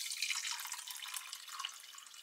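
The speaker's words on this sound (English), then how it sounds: "Let's get some water in there." Water trickles and splashes into a Russian IRP combat ration pack, a thin, continuous pouring sound, soft and close.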